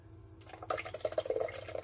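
Whey from kefir cheese drips and trickles as it strains through a cloth, a quick run of soft, close wet drops that quickens after a brief quiet start.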